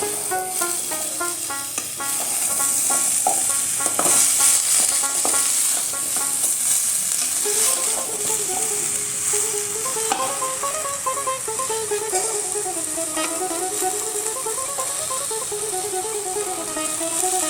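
Eggplant and ridge gourd frying in a pan for a drumstick vegetable curry, a continuous hissing sizzle with stirring scrapes throughout, close and steady, with no one speaking.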